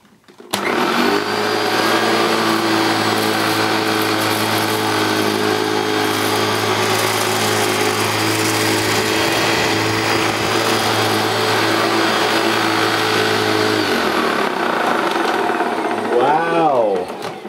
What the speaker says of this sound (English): So I'm just going to pass the machine again up along the edge of this board here, baseboard, but with it on that setting